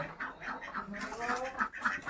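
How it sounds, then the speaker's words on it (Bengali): Ducks quack in a few quick, nasal bursts, moderately close but fairly quiet, with other farmyard fowl faintly mixed in. "এই যে সব হাঁস মুরগি আরও আছে"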